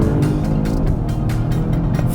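A 2024 Volvo V60 Polestar Engineered launching hard, its engine roaring loud and close with rising, pulsing revs as it accelerates, no talk over it.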